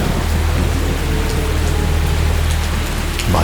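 Heavy rain pours down steadily in a close, dense, loud wash, with a low thunder rumble running underneath throughout.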